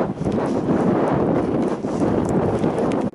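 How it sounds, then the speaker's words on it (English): Strong near-gale wind blows across an open Welsh hillside near Llyn Bodlyn, a loud continuous roar buffeting the microphone with gusting surges throughout. "the wind's picked up quite a bit. It's kind of blowing a near gale"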